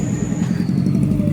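A car squeezes past very close along a roadside with pedestrians at the edge, giving a loud, steady engine and tyre rumble with a faint clatter for its brief duration.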